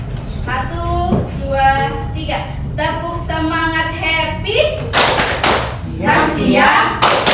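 A classroom group performs a rhythmic clapping chant, voices singing together in time with bursts of loud, fast claps and thumps, all close and lively.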